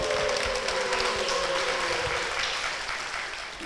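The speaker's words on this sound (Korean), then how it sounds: "두 분께 축복의 박수 부탁드리겠습니다" A church congregation breaks into applause, clapping steadily at first and then gradually fading out over a few seconds. A faint sustained musical tone sits underneath the clapping.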